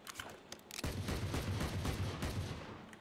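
A whole magazine is emptied in rapid gunfire in the shooter game Valorant, a few scattered shots giving way to a dense, continuous burst that holds loud for over two seconds before tapering.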